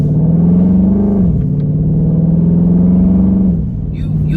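A Dodge Charger Scat Pack engine drones loudly and steadily, its pitch rising slightly then settling, with a brief dip in the rumble near the end.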